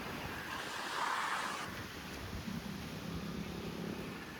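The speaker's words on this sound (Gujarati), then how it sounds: "પવન આવી રહ્યો છે" Steady broadband wind rushing outdoors, a gust swelling around the first second and a half before settling into a constant blowing hiss.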